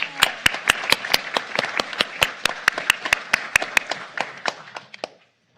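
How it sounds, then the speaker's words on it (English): Sparse, close handclaps from a small audience at a board of trustees meeting in a hall. The claps are sharp and separate at first, then thin out and stop after about five seconds. "let's give him a round of applause"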